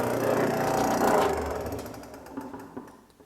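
A JET oscillating spindle sander hums and grinds loudly at first, then fades to a quieter running whir with a few scattered knocks.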